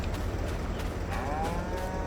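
Cows in the video game Farming Simulator 22 moo, giving drawn-out, low bellowing calls that overlap one another over steady background noise.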